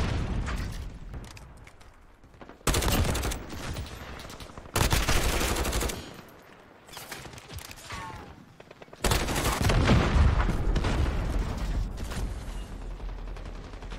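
Grau 5.56 assault rifle fire in Modern Warfare, long sustained full-auto bursts that roar loudly with a steady fast cadence, broken by short pauses between strings of shots, while someone talks over parts of it.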